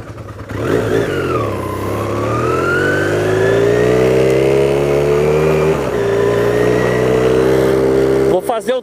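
A Honda CBR 450SR motorcycle engine fires up on the starter and runs loud and close, its pitch rising in a long, steady rev before dropping back with a few quick sputters at the end.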